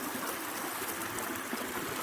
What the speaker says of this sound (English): of total silence in this spot with just the sounds of water